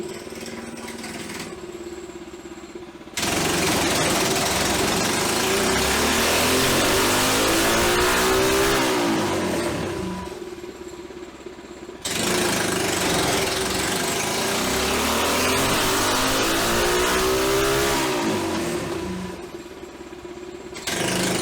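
A Predator 212 stage 4+ race engine roars on a dyno, revving hard through two long rising pulls with an idle between them, loud and close, with no talking.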